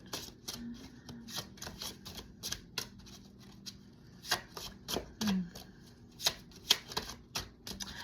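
Tarot cards being shuffled by hand, a run of crisp riffling and tapping bursts of varied loudness, close and with no talk.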